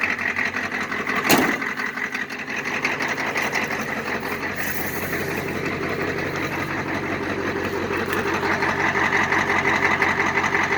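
A car engine idling just after a cold start on a cold morning, giving a fast, even mechanical clatter and hum that runs steadily throughout, with a brief sharp knock near the start.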